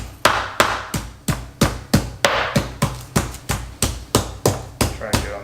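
Meat for saltimbocca is pounded on a board in a fast, even series of about fifteen heavy thumps, loud and close, with no pause in the rhythm.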